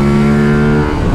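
An Aprilia Tuareg 660 twin-cylinder motorcycle engine revs loud and close, holding a steady, rich harmonic drone before its pitch drops and roughens near the end.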